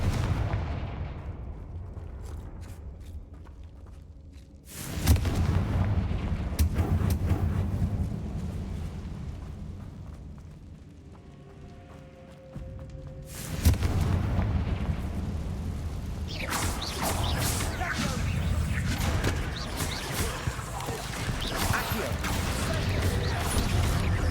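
Fire spells blast in Hogwarts Legacy during a combat sequence: a sudden loud explosive boom hits, fades into rumbling decay, then a second blast erupts and rolls into sustained crackling, roaring fire and battle noise.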